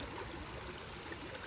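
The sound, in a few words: water of a stream flowing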